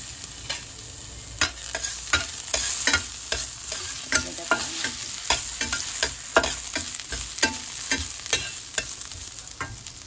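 Ginger sizzles in hot oil in a pan while a utensil stirs it, the steady crackling frying broken by regular scraping clinks at a quick, even pace, close and fairly loud.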